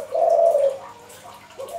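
A spotted dove gives a close, clear coo, a drawn-out low note followed by a softer, shorter call, with no talking.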